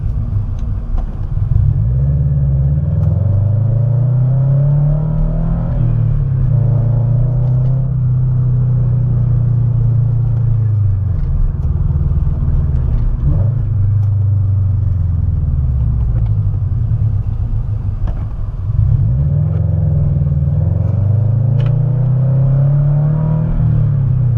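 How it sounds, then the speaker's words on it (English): A loud Subaru BRZ engine, Stage 2 tuned with unequal-length headers and E85, revs hard again and again, each surge of acceleration climbing in pitch before dropping back, heard close throughout. "Quick acceleration right here."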